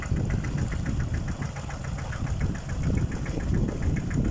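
An engine-driven pump drains a pond for fish catching, chugging in a steady, knocking rhythm at moderate volume with no voices over it.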